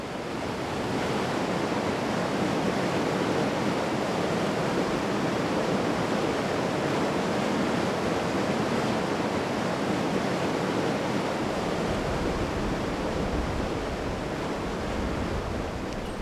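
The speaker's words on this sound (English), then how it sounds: "Deep gorges and raging rivers can only be crossed using military bridges." A raging mountain river in a deep gorge beside the Leh-Manali highway rushes with a loud, unbroken, broadband roar of churning water that holds steady throughout.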